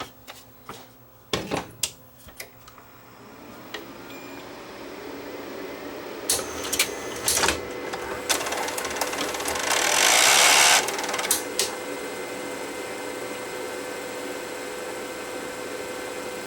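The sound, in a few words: Sony DNW-A30P videotape deck mechanism spinning an SX tape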